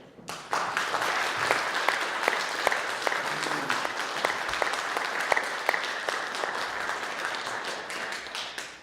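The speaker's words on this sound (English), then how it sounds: "Please stand up for big applause" A conference audience at CUNY applauds sponsors, a sustained round of clapping with sharp individual claps standing out near the front and a steady crowd wash lasting throughout.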